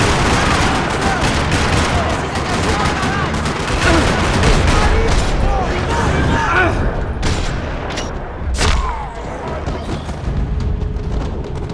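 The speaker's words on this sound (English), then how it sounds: "Another parking lot rattling with gunfire." Gunfire rattles through a parking lot in the video game Max Payne 3: dense bursts of automatic fire and sharp single shots with heavy booms, loud and continuous, with a few voices mixed in.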